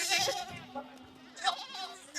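Red Kathiawadi goats bleating at a livestock sale, several short calls rising over steady crowd chatter and nearby talk.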